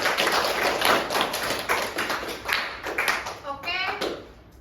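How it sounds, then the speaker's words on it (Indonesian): Students in a coding and artificial intelligence classroom clapping together, a quick rhythmic patter of hand claps that swells and fades, with children's voices near the end. "Yuk, tepuk tangan kita ke semua."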